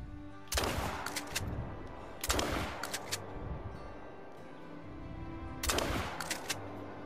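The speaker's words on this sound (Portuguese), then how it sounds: "Vou estar atirando nele aqui com meu buckshot." Shotgun blasts of buckshot fired at a raccoon in the hunting game theHunter: Call of the Wild: three loud, sharp reports spaced a few seconds apart, each with a short echoing tail and quiet between.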